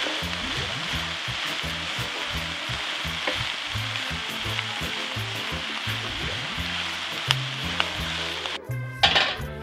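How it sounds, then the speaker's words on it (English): Vegetables and Chinese cabbage stir-frying in Manketti oil, a steady loud sizzle throughout with rhythmic scraping and stirring knocks in the pan, ending in a few clinks of utensils. "Fry that for a while. Then you can start adding your leaves."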